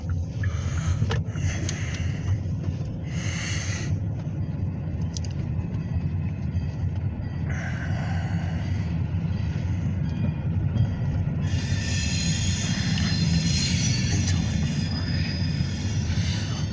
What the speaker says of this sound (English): Just pass the train here